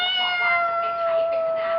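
A voice imitates a cat's meow in one sustained, tonal, slightly wavering call lasting nearly two seconds, close and clear, with no other talk.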